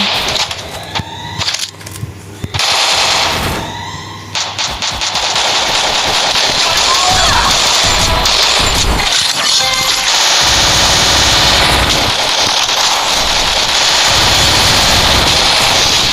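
Rapid automatic gunfire from the Free Fire battle royale game bursts loud and dense, starting with scattered shots and then running into sustained, overlapping firing with harsh mechanical clatter throughout.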